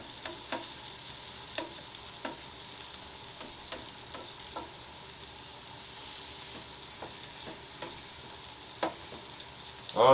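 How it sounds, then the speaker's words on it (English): Chopped yellow chili peppers and onions sizzle on a Blackstone E-Series 17-inch tabletop griddle, a soft steady frying hiss punctuated by regular sharp scrapes and taps of a spatula stirring them. "I'm going to put down some peppers. I got some yellow chili peppers and also some onions."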